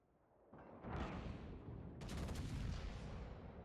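Naval gunfire from warship turrets in World of Warships, booming salvo of heavy shells with a second broadside about a second and a half later, loud and rumbling with no talk.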